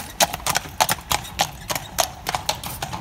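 Horse hooves clip-clop on a street in Weimar, Germany, sharp regular strikes in a steady trotting rhythm, close and clear over faint background noise.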